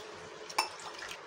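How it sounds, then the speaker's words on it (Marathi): Red lentils (masoor dal) rinsed in water in a kitchen vessel, with soft sloshing, a faint trickle and one brief clink of a pot near the middle, close and quiet. "ही मसूरची डाळ 2 ते 3 पाण्याने स्वच्छ धुवून घ्यायची"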